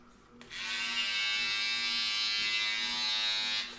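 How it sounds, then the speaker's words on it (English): A Flex electric shaver switches on after a brief quiet start and hums with a steady, close buzz for about three seconds before cutting off. "The Flex, which now they have a shaver."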